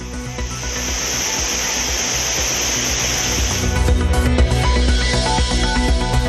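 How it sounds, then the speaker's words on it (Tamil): Courtallam waterfall in the Western Ghats, swollen after monsoon rain, gives a dense, continuous roaring rush of falling water, loud and steady throughout with no speech. "மேற்கு தொடர்ச்சி மலைப்பகுதிகளில் பெய்த மழையால் குற்றாலத்தில் ஆர்ப்பரித்து கொட்டும் தண்ணீர்"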